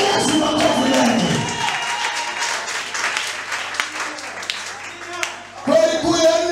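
A church congregation applauds during a sermon, a dense wash of clapping that continues under the preacher's voice before fading as his speech resumes.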